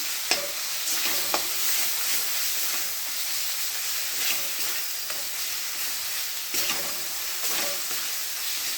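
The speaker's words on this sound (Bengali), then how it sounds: "বাটনাটাকে ভালো করে কষিয়ে নিই।" A paste of green chili, ginger, cumin and a little garlic is stir-fried in a pan, with a continuous close sizzle and hiss and occasional scrapes of the spoon, no voices over it.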